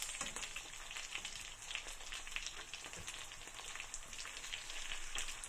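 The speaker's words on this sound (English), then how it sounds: "So when you cook it on a low heat, you get to control how caramelized you want your sausages." Filipino longanisa sausages frying on low heat in a pan, giving a soft, steady, even sizzle with fine crackles that stays constant and fairly quiet.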